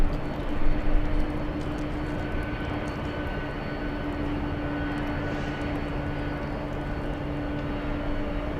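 Airbus A321 taking off from LAX bound for Austin, Texas: a steady, distant jet engine roar held throughout with a faint whine over it.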